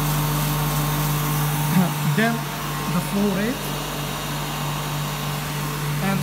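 A centrifugal pump on a laboratory test rig runs with a constant motor hum and steady whir throughout, while a person speaks briefly over it in the middle.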